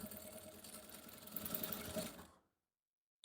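A sewing machine runs continuously, stitching the front pocket of men's shorts, then stops abruptly and leaves silence.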